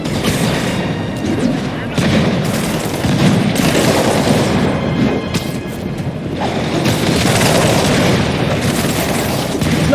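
Steady bursts of gunfire and booming blasts from a firefight in the video game Marvel's Spider-Man, loud and continuous with dense layered shots throughout, voices faintly mixed underneath.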